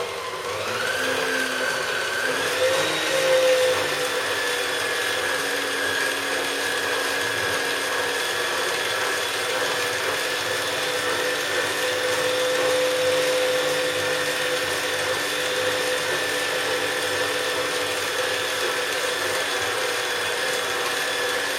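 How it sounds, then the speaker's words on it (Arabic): An electric mixer whisks eggless buttercream at medium speed, holding a steady motor whine with a slight pitch shift near the start, then running evenly throughout without voices. "الآن نخفق ثم نضيف الزبدة. نخفق على سرعة متوسطة"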